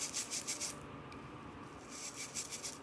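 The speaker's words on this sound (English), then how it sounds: "So I'm going to get a little bit, and I'm just going to scrub" A kitchen surface is scrubbed with baking soda in soft, rhythmic rubbing strokes that pause briefly midway and then resume, quiet and close, with no talking.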